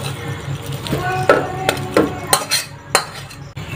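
Singara filling being tipped out of a cooking pan, heard as a series of metallic scrapes and clinks from a spoon against the pan, close and fairly loud, irregular over a few seconds with a faint background hum.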